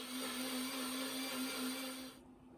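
Blender blitzing fresh strawberries and raspberries, a continuous whirring motor hum held steadily and close, then cutting out near the end, no talk.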